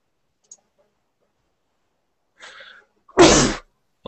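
A single sharp, loud sneeze bursts out of near silence after a few faint clicks and small rustles, and then the sound cuts off.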